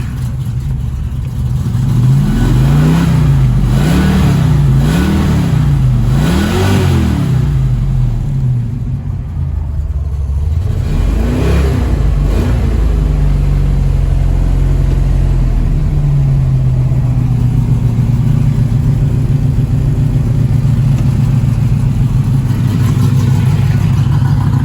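A 1964.5 Ford Mustang K-code coupe with its original 289 HiPo V8, stock Holman Moody-built hot rod, revs loudly up and down several times in rising and falling sweeps, then settles into a steady, lumpy rumbling idle close by.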